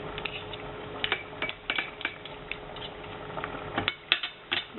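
Umeboshi and shiro miso diluted in hot water being mixed together, heard as a run of light clicks, taps and scraping knocks at an irregular rhythm, close and fairly quiet, with no talking.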